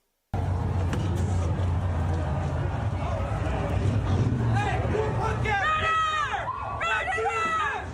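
A crowd at Kent State cheers and welcomes Kyle Rittenhouse, a sustained roar of voices that breaks out abruptly, with whoops and shouts rising toward the end.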